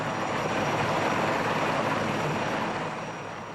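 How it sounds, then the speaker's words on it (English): Steady, broadband rotor and engine roar of a military helicopter in 2003 Iraq, loud and continuous, fading slightly toward the end. "Helicopters are used to perform impromptu checkpoints."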